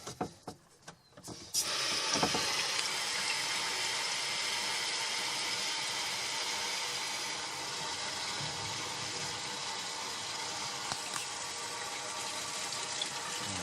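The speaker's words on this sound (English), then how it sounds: "we're going to let it run for 5 minutes out of that faucet to clean off all the carbon fines" Water running steadily from a faucet on a five-stage home water filter system, a constant rushing flow that starts abruptly after a few faint clicks and carries on without a break, fairly quiet and with no voices.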